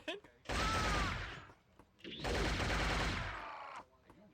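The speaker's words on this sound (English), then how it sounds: "Let's shoot a second shot." Two loud bursts of gunfire from the video game Shogo: Mobile Armor Division, each a dense blast lasting about a second and a half with a ringing decay, separated by a brief lull.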